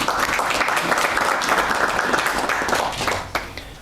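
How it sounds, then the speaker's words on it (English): Audience applause for winning schools at a high school quiz competition in Zimbabwe, a steady dense wash of clapping that holds evenly and then tapers off near the end. "A round of applause for them, please."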